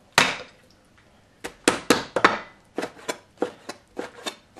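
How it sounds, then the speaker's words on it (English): A knife chops through pork loin on a cutting board, slicing it into half-inch strips for twice-cooked pork. Sharp, close knocks come in uneven bursts, a single hit and then quicker runs of cuts with short pauses, and no voices. "I cut my meat. That's the pork loin. Just gonna cut like a half inch strip."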